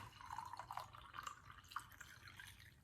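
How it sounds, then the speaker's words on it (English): Water poured from a kettle into a cup over a tea bag, heard as a faint, close trickle and dripping splash that runs steadily throughout. "Fill your cup up with water."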